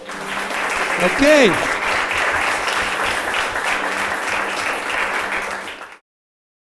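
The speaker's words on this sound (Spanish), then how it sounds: "Damos un fuerte aplauso más al Señor" A church congregation breaks into loud sustained applause, dense clapping filling the room for several seconds before cutting off, with a brief voice near the start.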